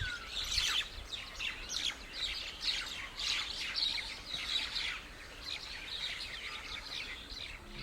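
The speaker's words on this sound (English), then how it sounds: "it is known as the red-throated parakeet, a relatively uncommon species" A red-throated parakeet calls in Kaziranga National Park, Assam, India: a run of sharp, high chirps and squawks repeats steadily over a few seconds, fairly close and loud, with no talking.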